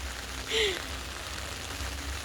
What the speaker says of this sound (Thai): ฝนก็ตกเนี่ยต้องได้กลางร่ม